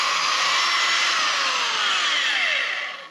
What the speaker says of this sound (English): So Dad's lapping the valves on the good ones.